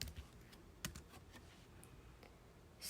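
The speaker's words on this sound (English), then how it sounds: "So I'm going to click on the search bar. I'm going to type in" Keystrokes on a computer keyboard while entering a search term: a short run of light, irregular clicks and taps, close and quiet, with no voices.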